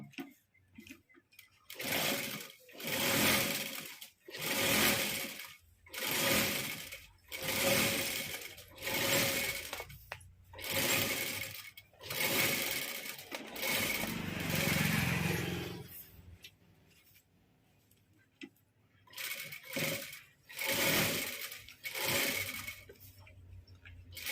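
A sewing machine stitches a Rajputi kurti in repeated loud, close runs of rapid clatter, pausing briefly between runs with a softer whirring stretch in the middle.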